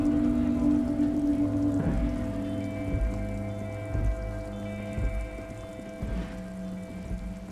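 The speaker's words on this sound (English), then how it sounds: "Raining on the snow, which is gonna suck and be slippery." Rain falling on snow in the video game Disco Elysium, a soft continuous patter beneath a low musical drone and occasional dull thumps, with no talking.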